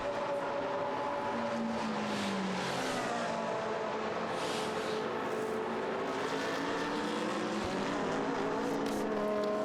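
GT race car engine at Monza during a Blancpain Endurance Series race, steady engine drone with shifting pitch as an Audi comes into the pits, continuous and moderately distant, no talk.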